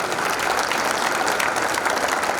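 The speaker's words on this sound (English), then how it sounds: "Please, a round of applause for our president." An assembly audience of quantity surveyors claps for their president, a thick, even roar of applause that stays loud and unbroken throughout.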